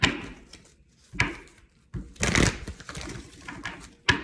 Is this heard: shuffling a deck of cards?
yes